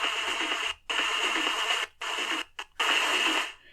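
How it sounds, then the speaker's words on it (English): Harsh, distorted radio audio plays in bursts separated by brief silent gaps, with a bright buzzy edge throughout. "There's kind of that distorted sound."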